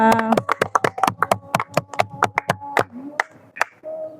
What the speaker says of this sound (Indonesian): Oke, kita tepuk tangan untuk kalian semua.